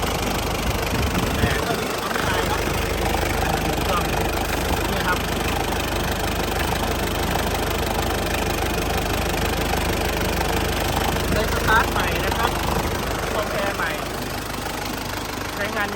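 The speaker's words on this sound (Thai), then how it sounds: "เครื่องค่อนข้างที่จะดีเลย เสียงนุ่มๆเลยนะครับ" An Isuzu TFR 2.5-litre diesel pickup engine idles steadily and smoothly at close range for the whole stretch, a constant low rumble with light mechanical clatter.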